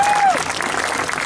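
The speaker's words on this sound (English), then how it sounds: "give him a round of applause" A burst of audience applause, dense and loud, right after a brief tone fades out.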